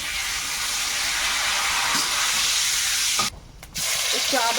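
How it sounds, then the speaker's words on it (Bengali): Panch phoron spices and a bay leaf hit hot oil, giving a loud, continuous sizzle and hiss with a brief dip near the end before it flares again. "তেলে একটু পাঁচ ফোড়ন দেবো তেজপাতা"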